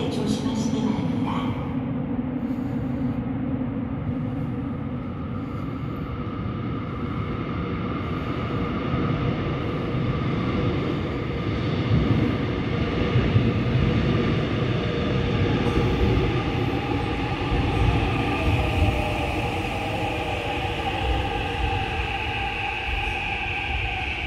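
A Seoul Line 6 subway train bound for Bonghwasan pulls into Beotigogae station, a steady, loud rumble and rising wheel whine filling the platform continuously, with a station announcement voice at the start.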